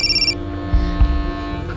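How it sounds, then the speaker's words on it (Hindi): A mobile phone rings with an incoming call, a short electronic ringtone burst followed by low hum and a couple of dull thuds in a quiet room. "एकाएक पूजा के फोन पर कॉल्स की बौछार हो रही थी."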